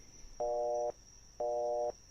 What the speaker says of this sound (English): I'll just hit the redial button on my phone.